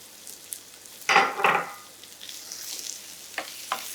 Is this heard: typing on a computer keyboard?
no